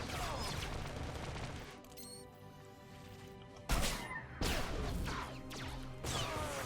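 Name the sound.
suppressive gunfire in video game Star Wars The Old Republic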